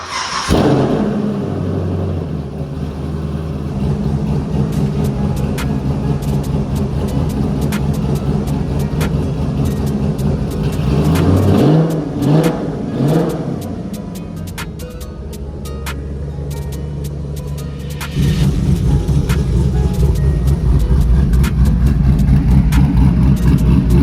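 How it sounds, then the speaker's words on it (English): An LS3 V8-swapped Nissan 350Z rumbles as it idles and pulls away, its steady low engine note rising and falling with revs and swelling louder toward the end, heard from inside the car. "So let's get in this thing, go for a drive"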